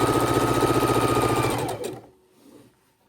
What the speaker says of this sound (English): we're sewing our rows together now